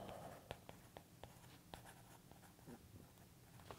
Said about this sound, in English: Write your name.